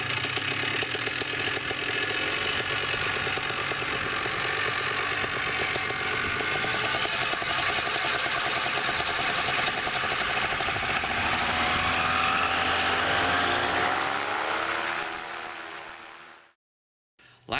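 A homebuilt Affordaplane ultralight aircraft engine starts and runs steadily with a rough, buzzing chatter, its pitch rising slightly before it cuts off abruptly near the end.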